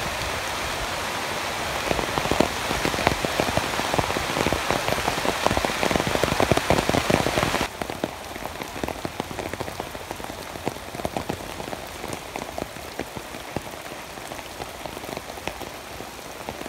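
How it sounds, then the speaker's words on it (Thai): Heavy rain pours steadily on a forest during a storm, a dense close hiss of drops on leaves and ground that is loudest early and then settles to a steady downpour, with no voices. "ผมก็โดนพายุฝนเล่นงานเข้าแล้วล่ะครับทั้งลมทั้งฝนทั้งฟ้าร้องหนักมากเลยทีเดียวล่ะครับ"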